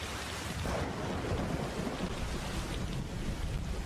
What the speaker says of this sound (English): It's actually raining where I'm at here, too, in real life.